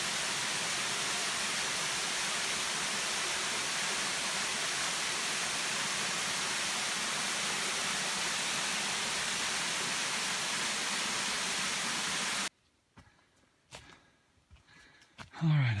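Water flowing steadily along a stream beside a wooded trail in autumn, swollen after overnight rain, a continuous broadband rush that stays loud for most of the stretch before cutting off abruptly into near silence with faint handling noises.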